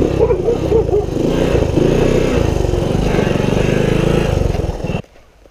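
A three-wheeled ATC engine runs loud and close, a steady buzzing drone with slight throttle swells as the trike wheelies down a bike ramp, then cuts off abruptly near the end.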